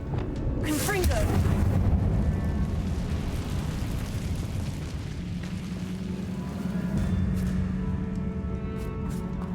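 A Confringo blasting spell in a video game erupts into a loud, close explosive boom that rumbles on as a low roar under a speaking voice.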